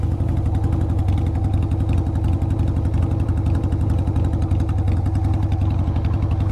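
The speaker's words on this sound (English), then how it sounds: "here we are on the bike on the road, coming up to the first stop" Motorcycle with a carburetor riding along a road, its engine thrumming in a steady, rapid pulsing rhythm, close and loud throughout with no talk.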